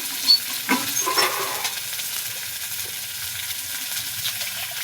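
Ginger-cumin paste frying in a pan, with a spoon scraping and stirring it over a soft, steady sizzle that stays close and moderately quiet throughout.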